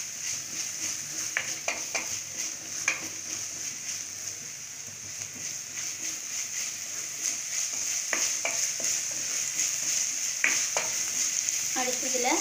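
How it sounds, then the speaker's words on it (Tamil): Raw banana (vazhakkai) sautés in a pan for mezhukkupuratti, giving a steady close sizzle throughout, broken by intermittent scraping stirs of a spatula. "நல்லா இதோட பச்சை வாசனை போகிற அளவுக்கு வணக்கிக்கோங்க"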